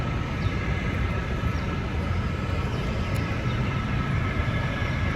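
A train rolls past on the rail line in Taipei, a steady, continuous rumble with broadband rail noise holding at a moderate, even level and no talking over it.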